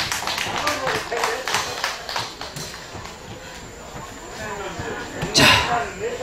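Audience applause at a Korean festival's final day, jangdo-hang silchi, a quick burst of close, scattered clapping that thins out, then a sharp knock near the end.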